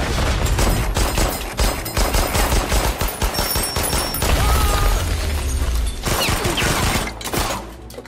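Intense gunfire in a Stalingrad battle film scene, rapid machine-gun bursts and rifle shots crackling almost continuously, with heavy booms and crashes mixed in, loud and close.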